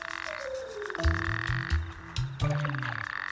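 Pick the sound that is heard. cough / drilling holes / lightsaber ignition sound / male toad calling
male toad calling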